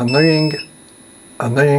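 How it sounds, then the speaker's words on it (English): Two loud, shrill electronic beeps from a BEST BST-863 heat gun station, separated by a short pause, close and piercing. "The beep is more stronger than the unit itself, and it's very annoying"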